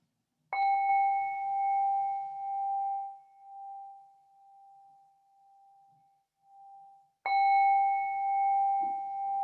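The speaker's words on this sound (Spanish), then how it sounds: "con el sonido de la campana" A meditation bell rings during a guided relaxation exercise: one clear chime that slowly fades over several seconds, then a second strike rings out, with no talking.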